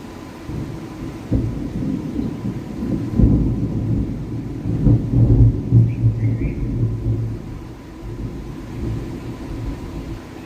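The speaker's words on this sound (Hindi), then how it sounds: "बादल बोल रहे हैं, आवाज़ कर रहे हैं।" Deep thunder rumbles rolling in waves, low and heavy, swelling and fading over a steady outdoor background.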